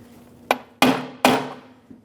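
A hammer taps a valve cover into place during a valve cover gasket replacement on a 2008-2020 Dodge Grand Caravan 3.6L, making three sharp close strikes plus a faint fourth tap, with a low hum between them.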